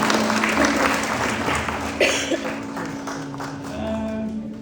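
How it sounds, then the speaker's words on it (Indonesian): A church congregation applauds at a child dedication service, clapping that starts strong and gradually tapers off, with a few faint voices underneath. "Berikan tepuk tangan bagi Tuhan kita."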